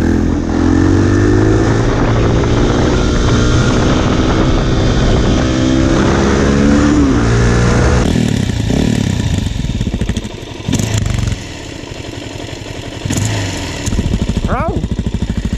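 A motorcycle engine runs loud and steady at close range, with rising and falling revs through the first half, then thinner, choppier engine noise with brief gaps and knocks.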